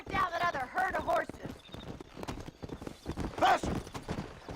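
Rhythmic clip-clop of horse hooves throughout, with a horse whinnying at the start and again later, fairly close, in the video game Red Dead Redemption.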